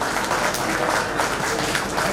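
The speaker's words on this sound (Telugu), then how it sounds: "ఈ స్కూల్ కొరకు చప్పట్లు కొట్టండి దయచేసి" Steady audience applause at a school's golden jubilee celebration, a dense crowd clapping continuously at moderate loudness with no talk over it.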